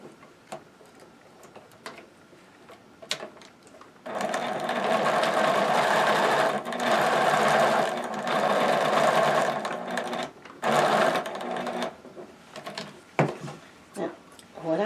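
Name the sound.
sewing machine stitching a stocking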